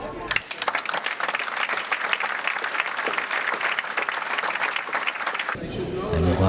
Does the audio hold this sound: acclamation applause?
yes